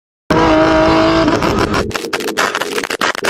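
A Toyota Supra MK4 with a twin-turbo 2JZ engine revs loudly and close by: a sustained, droning engine note gives way to a choppy series of sharp bursts and pops. No one speaks.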